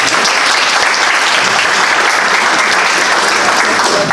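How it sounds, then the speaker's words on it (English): An audience gives parents a big round of applause at a school board meeting. Loud, steady clapping from a crowd fills the room for about four seconds. "let's give your parents a big round of applause"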